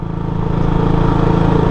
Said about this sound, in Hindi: अपना बाइक अभी थर्ड गियर में है